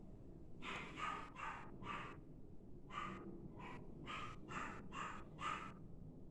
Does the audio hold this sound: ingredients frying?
no